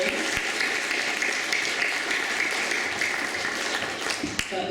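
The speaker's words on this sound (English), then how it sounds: "Give her a round of applause." Sustained applause from an audience at a school sports colours awards ceremony, a dense, even wash of clapping that carries on throughout.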